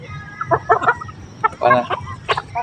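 Backyard chickens clucking close by in a short burst of several uneven, throaty calls, fairly loud with no talk over them.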